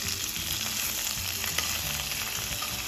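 A tempering of urad dal, mustard seed, curry leaves and chilies fries in oil and ghee with a steady, close sizzle. Faint stirring scrapes sit under it, with one small knock near the middle and no talking.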